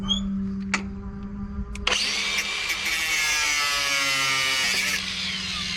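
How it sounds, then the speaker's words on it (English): A battery right-angle grinder cuts through a seized shackle on the rig of a Hallberg Rassy 54 sailboat, a loud sustained whine with a high gritty edge that starts after a couple of short bursts and runs steadily to the end. "I'm going to cut it off. Again with my trusty grinder. Right angle."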